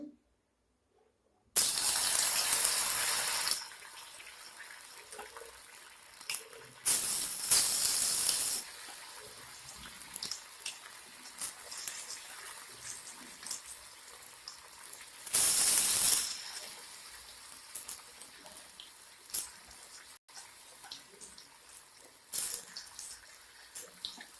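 Paneer 65 pieces dropping one by one into hot oil, each setting off a loud bubbling hiss that settles into a softer steady crackle, with a few more bursts as pieces are added.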